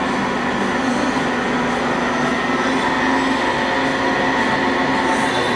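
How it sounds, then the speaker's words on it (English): An SNK SUT-50 CNC turning center with a FANUC control runs its spindle at 500 RPM, giving a loud, steady broadband machine roar with a constant hum and no pauses or talk. "The spindle's currently running at 500 RPM."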